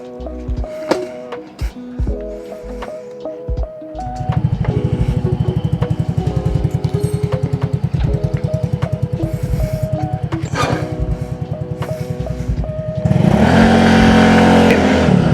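A 2025 Yamaha Aerox V3 Standard scooter engine runs close by, starting with scattered mechanical clicks before settling into a steady, rhythmic idle that grows louder and rougher near the end as revs rise.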